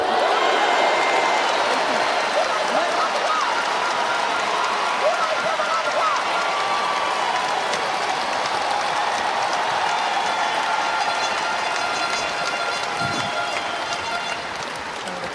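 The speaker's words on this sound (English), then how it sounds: "The crowd there has just erupted" Judo arena crowd at a Paris Grand Slam bronze medal bout erupting, a dense, steady roar of cheering and applause that fills the whole stretch without letting up.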